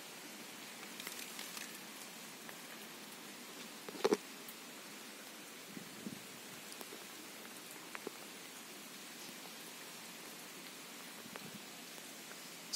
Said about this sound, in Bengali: ছাদের কি অবস্থা, এই বৃষ্টির জন্য এখন আর কিছু করতে পারছি না।